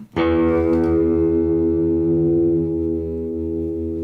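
An electric guitar played through a ring modulator rings out on a sustained low open E through a metallic, effects-laden tone that hums steadily and slowly fades.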